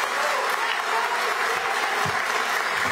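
A crowd at a political event gives a big round of applause for Governor João Azevedo, a continuous, even wash of many hands clapping throughout.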